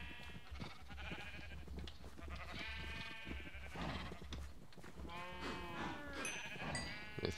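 Cows in Minecraft bleating and lowing in repeated short calls, several overlapping with small clicks and game sounds between them, fairly close and moderately loud.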